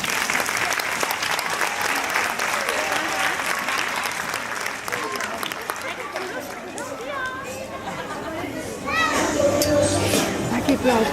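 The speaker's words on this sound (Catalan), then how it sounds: "Un fort aplaudiment per a ells." An audience at a school Christmas festival applauds a second-grade primary class, with steady, dense clapping throughout and crowd and children's chatter underneath, loud and close. Voices speak over the clapping.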